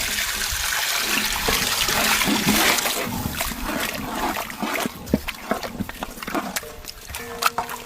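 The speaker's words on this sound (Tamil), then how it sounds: "நல்லி எலும்பு வேக வச்ச தண்ணி," Broth from boiled mutton marrow bones is poured into a cooking pot for a Rajasthani mutton dish, giving a steady splashing pour followed by scattered drips and clinks, close and fairly loud.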